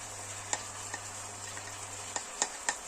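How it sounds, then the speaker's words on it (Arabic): Julienned onions fry with meat for Egyptian beef shawarma, a quiet low sizzle with a few sharp spoon taps and clicks against the pan as it is stirred. "افضل اقلب واخليها ايه في البصل بتاعي كده شويه"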